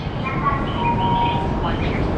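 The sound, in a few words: Shinkansen Komachi and Hayabusa train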